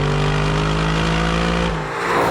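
Audi R8 with a mid-mounted V8 revving steadily, a loud sustained engine drone that holds its pitch before dropping off near the end, close by and with no voices.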